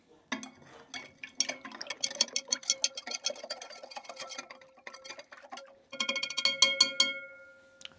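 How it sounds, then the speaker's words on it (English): A mixture of salt and potassium chloride being stirred, giving a quiet run of small clinks, taps and scraping ticks with a brief ringing tone near the end. "I'll give that a little bit of a stir."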